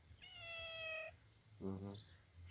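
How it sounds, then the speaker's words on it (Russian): A cat in a village vegetable garden meows twice, first a long high meow and then a shorter lower one, soft and a little distant against a low background hum. "Вон там, девочки, кот."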